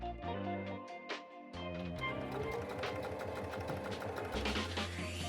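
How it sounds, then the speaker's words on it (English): A sewing machine hemming the long side of pillow back panels runs in a fast, even mechanical chatter, starting with a brief pause and stop-start stitching before settling into a steady close-up run. "we'll get out the sewing machine and start sewing"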